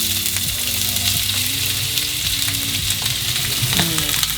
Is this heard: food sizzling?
yes